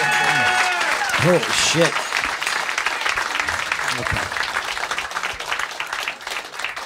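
Studio audience applause for a comedian at a live comedy roast show, broad steady clapping under a loud voice exclaiming, continuing through the clip and fading slightly at the end.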